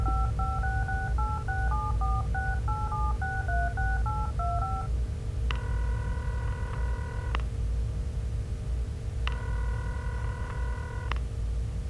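A payphone in the Serious Sam video game is dialed, with a quick run of touch-tone beeps followed by two long ringback tones, clear and close over a low background hum.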